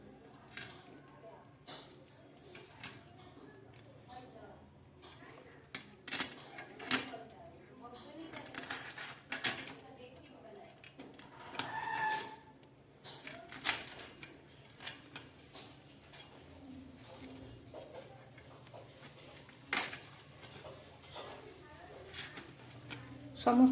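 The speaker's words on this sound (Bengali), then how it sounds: "তেলাপিয়া মাছের পাখনাগুলো কেটে নিচ্ছি।" Scissors snip the fins off a tilapia at home, a run of small, close clicking cuts and soft squelches scattered through the stretch, with faint kitchen clatter and talk in Bengali around it.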